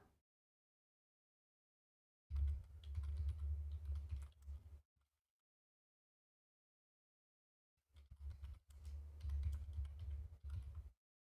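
Typing on a computer keyboard comes in two bursts of rapid, close clicking, each lasting a couple of seconds and separated by silence.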